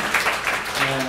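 A gathering in Korea applauds as a visiting professor is introduced; a brief wash of clapping runs under a voice speaking over it.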